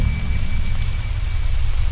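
Heavy rain in a Bengali horror cartoon falls in a steady, dense hiss that stays loud and constant throughout, with no voices.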